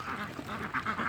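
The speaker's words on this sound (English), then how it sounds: "Hopefully you can hear me over the ducks squawking." Ducks quack continuously outdoors, a dense overlapping chorus of several birds at close to moderate distance with no talk.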